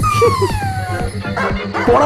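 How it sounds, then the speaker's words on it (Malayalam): A dog barks repeatedly in sharp, close bursts, with some whimpering, yipping tones mixed in between the barks. "പട്ടി."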